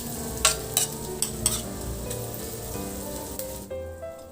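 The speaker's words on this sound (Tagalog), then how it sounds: "Ihalo lang din hanggang sa mag-combine lang yung sibuyas at mayonnaise." Onion and mayonnaise being stirred together in a pan for tofu sisig, soft repeated scrapes and taps of a utensil over a low continuous crackle, no voices.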